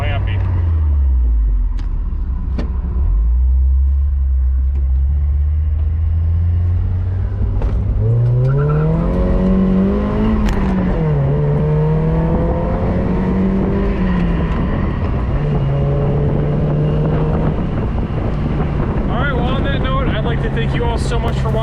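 A Mazda Miata with a freshly swapped transmission and new clutch runs on the road, its engine revving up and dropping through gear shifts with rising and falling pitch. Wind noise is heavy, and a person talks over the engine.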